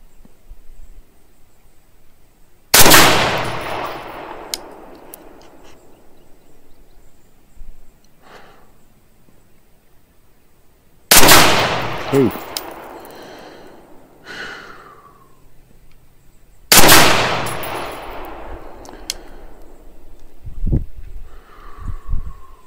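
Winchester rifle fired at a target with 77 grain Sierra bullets, three sharp loud gunshots spaced several seconds apart, each with a decaying echo, and faint handling noises between them.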